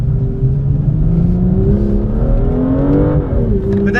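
A BMW M2 engine revs hard while drifting, a loud continuous roar whose pitch climbs steadily over several seconds, then dips and rises again near the end.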